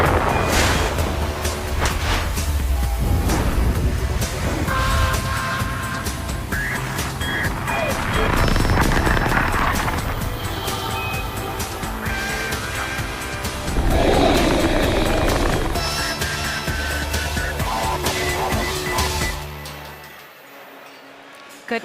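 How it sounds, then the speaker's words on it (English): A SpaceX Falcon 9 rocket lifts off with a loud continuous roar and rumble, heard under a voice with commentary and crowd noise, fading near the end. "liftoff of Falcon 9"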